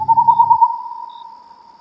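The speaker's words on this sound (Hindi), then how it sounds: "एक काला उल्लू आकर गाब के पेड़ पर बैठा और अपनी डरावनी आवाज में" A single steady, tonal hoot holds for over a second and fades out, clear and close, with a brief low rumble at the start.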